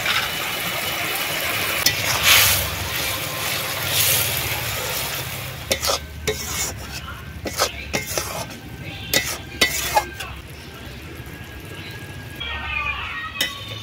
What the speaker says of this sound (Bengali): এবারে জল দিয়ে দিচ্ছি। মাছগুলো দিয়ে দিচ্ছি।